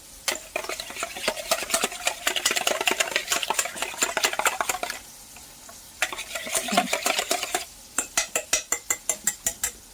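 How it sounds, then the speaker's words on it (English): Egg mixture for French toast is whisked briskly in a bowl, producing fast, steady clinking and tapping strokes up close that pause briefly midway and then resume in a sharper, evenly spaced rhythm, with no voices. "whisking it up nicely"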